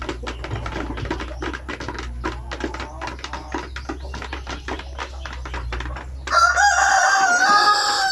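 Basilan chickens feeding in a breeding pen, with busy pecking and clucking sounds throughout, then a loud, close rooster crow near the end.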